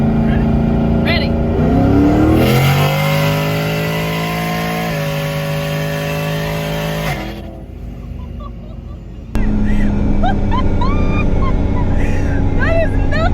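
A 1,000 hp 2018 Turbo Mustang GT rolls into the throttle from about 50 mph, its engine climbing in a loud rising roar with gear changes, then easing off as excited voices break in over the car.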